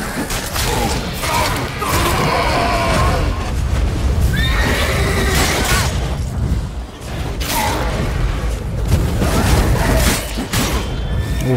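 In The Witcher 3 video game, a horse whinnies loudly amid a dense, stormy wash of game noise and thumps, with a few brief neighing calls standing out.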